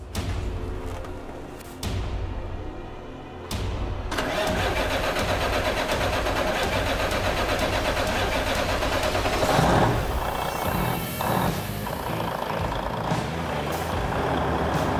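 A truck engine cranks with a couple of short bursts, then catches and settles into a steady, loud rumbling idle, close by.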